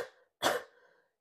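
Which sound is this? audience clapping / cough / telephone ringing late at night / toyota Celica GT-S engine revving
cough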